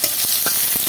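Tomato frying in oil with cumin seeds and a bay leaf, a close, loud steady sizzle broken by a few quick stirring scrapes over one second.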